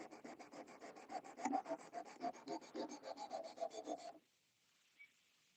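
A $5 Ozark Trail axis lock knife is drawn across a sharpening stone in quick, even rhythmic strokes for about four seconds, close and quiet, and then it stops into near silence.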